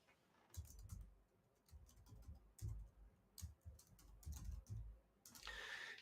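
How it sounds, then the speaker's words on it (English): Quiet computer keyboard typing in irregular bursts of soft key clicks, with brief pauses between runs and a faint rustle near the end. "I'll type that in here."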